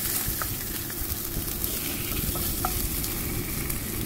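Onions and tomatoes sauté in a pan, a dense continuous sizzle with crackling pops and occasional stirring clicks, steady and close with no talk.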